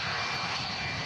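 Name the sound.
aircraft with Rolls-Royce RB211 engines at Manchester Airport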